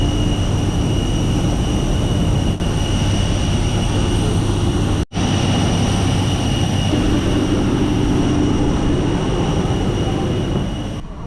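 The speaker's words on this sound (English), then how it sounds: "The aeroplane." Loud, steady roar of an airplane cabin in flight, a constant engine drone with faint tonal hums, briefly cut once midway.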